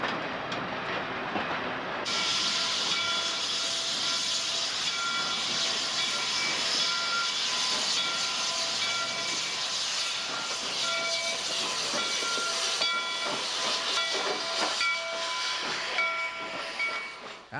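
A North American steam locomotive hisses steadily at close range, a continuous broad rush of steam with faint metallic clanks and rail sounds underneath, no voices.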